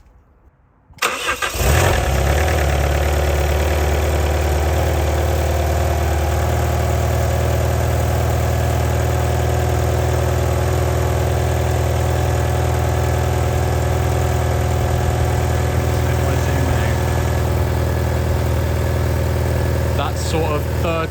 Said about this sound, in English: Okay, we'll start the engine.